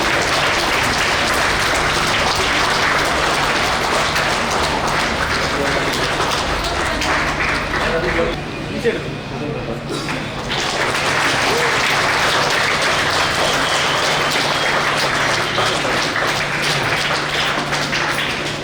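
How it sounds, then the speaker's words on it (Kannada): Dense, loud applause from an audience welcoming a guest onto the stage at a school reopening program, sustained clapping that dips briefly midway then swells back and carries on to the end. "ಸೊ ನಿಮ್ಮೆಲ್ಲರ ಕೈ ಚಪ್ಪಾಳೆ welcome mister Sachin Shetty on stage."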